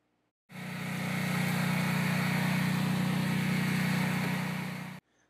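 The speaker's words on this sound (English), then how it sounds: "Let's drill holes and rivet the post to the steel." A power drill whines steadily for about four seconds at close range, drilling holes through a vinyl fence post into steel, starting and stopping abruptly, with no voices.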